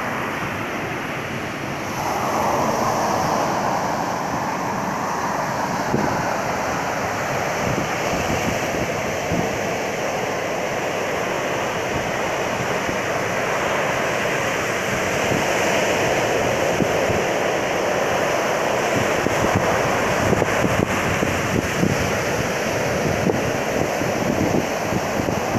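Sea surf washing steadily onto the shore, a continuous loud roar with wind buffeting the microphone and no voices.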